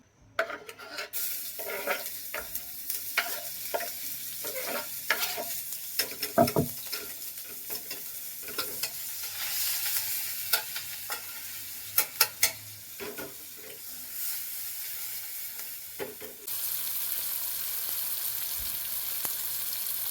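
Chopped onion and finely chopped green chili frying in hot oil, a steady close sizzle with repeated scraping stirs and occasional sharp clanks of a utensil against the pan, with no talking.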